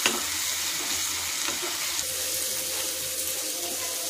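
Ginger garlic paste sizzling with browned onion in a pan, a steady, close frying hiss with small crackles throughout and no talk.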